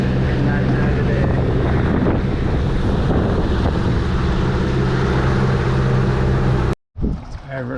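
A Honeymoon 26 boat running across Myall Lake in a light breeze, with steady wind rush on the microphone and water noise throughout; a person talks over it before a brief cut.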